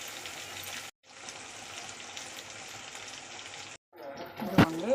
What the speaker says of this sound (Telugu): ఆయిల్లో ముక్కలు మెలిగేదాకా బాగా సిమ్లో పెట్టి బాగా ఫ్రై చేసుకోవాలండి